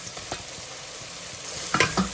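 Onion paste, tomato pieces and green chillies fry in a pan for a Bhimavaram-style small fish curry, giving a steady close sizzle with scattered stirring scrapes that grow busier and louder toward the end.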